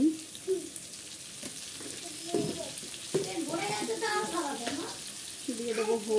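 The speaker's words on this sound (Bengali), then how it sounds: "আলু আর পেঁয়াজ ভাজবো" Potato and onion pieces fry in a pan with a steady sizzle, broken by stirring scrapes and clinks, with a voice talking over parts of it.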